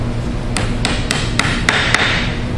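Six sharp, evenly spaced hammer taps drive wheels and axles onto a toy, close and crisp over a steady background hum.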